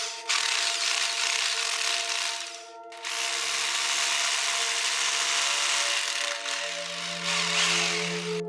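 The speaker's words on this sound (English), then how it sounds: "The hammer drill has a tendency to wobble away from its starting point." A hammer drill bores a hole into a ceiling while a ceiling spotlight is fitted, a loud, continuous grinding whine that dips briefly and then resumes, steady and close with no talk.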